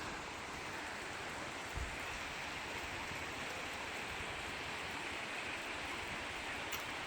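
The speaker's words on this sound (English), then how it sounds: "For the first time this holiday, it's now raining, and it's really, really raining." Heavy rain falls steadily at a holiday resort, a dense continuous hiss with one faint low thud early on.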